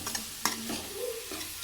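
Onions fry in a pan for horse gram sambar while being stirred, a soft sizzle with a few brief scraping strokes, quiet and close.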